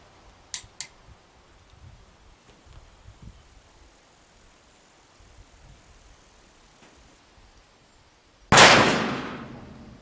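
Uberti Walker revolver fired with a heavy charge of roughly 70 to 80 grains: a single loud, sharp blast near the end with a long decaying tail, preceded by a few faint mechanical clicks and quiet outdoor background.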